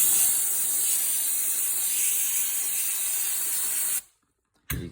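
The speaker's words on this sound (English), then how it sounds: "I get something like brake clean or a spray degreaser that evaporates quickly to spray all this debris off" Brake cleaner or fast-evaporating spray degreaser blasts onto a bicycle cassette in a steady, loud, close hiss for about four seconds, cuts out briefly, then sprays again.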